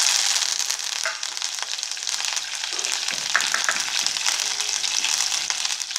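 Cumin, three dried chillies and curry leaves sizzle and crackle in hot oil, a continuous close frying hiss with scattered sharp pops and spatters and no voices.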